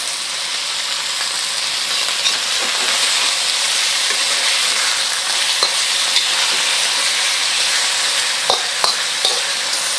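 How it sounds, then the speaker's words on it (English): Beef sears in a hot pan for a Chinese stir-fry dish, giving a loud, steady, close sizzle that holds evenly throughout with a few faint clicks of movement. "Let it sit to sear a bit before moving it around."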